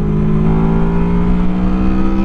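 Honda Crossrunner motorcycle with a V-TEC engine held at high revs, a loud, steady, buzzing engine note that stays close and even for about two seconds with no talking.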